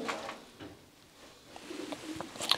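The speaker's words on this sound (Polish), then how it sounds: "Prezentujemy gołębia z linii 54-16 Lady Sun." A racing pigeon of the Lady Sun 54-16 line coos softly a few times, low murmuring calls over quiet room background with a brief rustle near the end.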